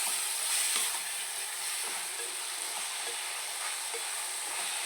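Clove, cinnamon stick and cardamom pod dropped into hot oil in a pan for a village-style egg curry, giving a steady, soft broadband sizzle with faint clicks throughout, no voices.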